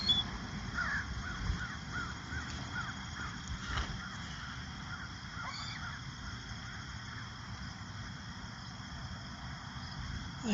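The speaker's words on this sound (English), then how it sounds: "I've been sitting here feeding seagulls." Seagulls calling while being fed fast food outdoors, several harsh, fairly faint cries scattered over steady low background noise, with no one speaking.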